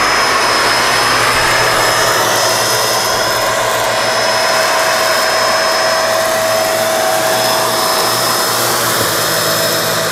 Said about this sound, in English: Setting 2, that turns on the brush roll.